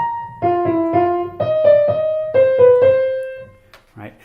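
An orchestral excerpt from the Jurassic Park score, with sustained tones stepping downward in overlapping repeated motive statements over a low pulsing bass, clear and fairly loud, ending with a brief voice.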